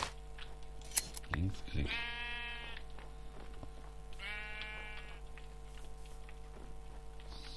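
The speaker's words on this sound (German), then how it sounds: "jetzt müssen wir die Schafe nochmal abernten" Sheep in the video game Minecraft are sheared, with a few short snipping clicks, then two distinct bleats a few seconds apart over a steady background hum. A person talks in the background.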